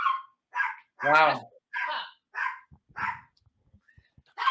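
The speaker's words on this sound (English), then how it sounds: "What kind of dog was it? He's a poodle terrier mix." A tiny seven-pound poodle terrier mix gives a string of short, sharp yappy barks, loud and close, with one person briefly speaking between them.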